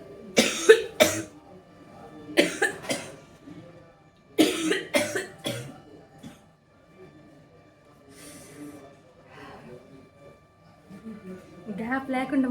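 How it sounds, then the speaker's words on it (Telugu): Several close, loud coughing fits from someone talking nonstop about money management in Telugu, coming in sharp clustered bursts with short pauses between them and quieter breathing sounds near the end. "గ్యాప్ లేకుండా మాట్లాడేసరికి దగ్గు కూడా వచ్చేసింది."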